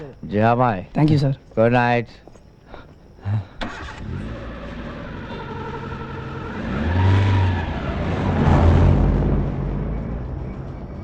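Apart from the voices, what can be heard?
car engine starting and driving away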